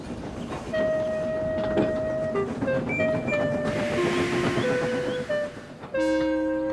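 A cartoon tank engine chugs steadily along the rails towing a traction engine back to the junction, with a continuous rumbling rhythm under sustained musical tones.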